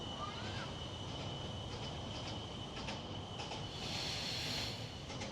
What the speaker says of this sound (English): The train might be overrunning my sound here.